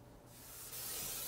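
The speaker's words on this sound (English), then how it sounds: "We're going to spray some canola oil on this" Canola oil sprayed from a can onto a grill grate set in a Recteq Bullseye, a steady close hiss that starts partway in and grows louder, running continuously to the end.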